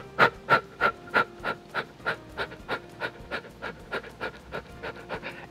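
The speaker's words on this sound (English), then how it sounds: "the Breath of Fire is all about very quick but powerful short exhalations" Rapid Breath of Fire breathing, a series of about twenty quick, forceful exhalations pumped from the abdomen in a steady even rhythm, close and moderately loud with no talking.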